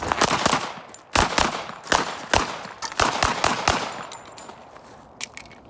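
Rapid series of .45 ACP pistol shots at an outdoor shooting range, loud sharp cracks in quick succession with a few pauses, some distant shots from other shooters, no talking.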